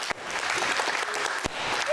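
Studio audience applauding on a Super Bingo TV game show, a short burst of dense clapping that fills the whole moment without talk.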